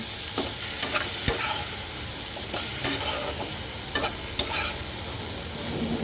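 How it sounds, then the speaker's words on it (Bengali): Turmeric, coriander powder and spices for a tengra fish and potato curry fry loudly in a pan, with a dense steady sizzle and a few sharp spoon clinks as it is stirred. "এবার এটাকে সুন্দর সুন্দর করে ভাজা ভাজা করতে হবে"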